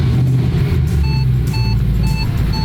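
A car's key-in warning chime, a repeating electronic beep sounding at regular intervals, about four times, over a low engine rumble inside the vehicle.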